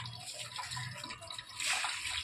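Water splashing from a hose or can onto potted plants on an open rooftop, a steady wash of spray that swells louder near the end, with no talking.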